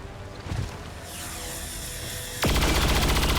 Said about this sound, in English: I'm just gonna fire the weapon at the turret